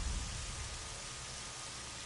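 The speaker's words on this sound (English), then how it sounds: "Rain's not so bad." Rain falls steadily in a continuous, even hiss, close and moderately loud, with no other sounds standing out over the short stretch.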